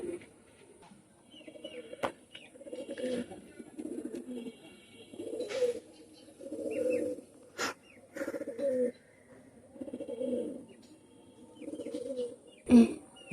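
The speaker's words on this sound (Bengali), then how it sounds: "সকাল সন্ধ্যাবার এই কবুতর রানিং পেয়ার, মাস্টার ব্লাড লাইনের কবুতর" Red-necked master-bloodline pigeons coo in repeated soft, throaty bursts, a running pair calling close by with short pauses between phrases and a few brief clicks and knocks in the background.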